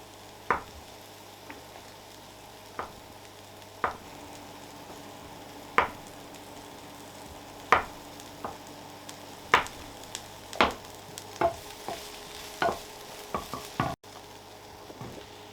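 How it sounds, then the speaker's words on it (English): Onions sweat down in a pan under a quiet, continuous sizzle, with a series of sharp spoon or spatula taps and scrapes against the pan spaced every second or so, more frequent toward the end. "The onions are sweating down nicely"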